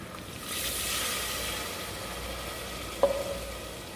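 Red wine poured into a hot pan for risotto-style cooking, giving a soft sizzling hiss that swells at the pour and then settles into a gentle, steady bubbling, with a brief clink of a utensil near the end.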